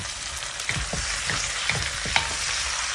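Pork belly and liempo fry in a pan with a loud, steady sizzle, broken by light scraping and knocks from stirring close by.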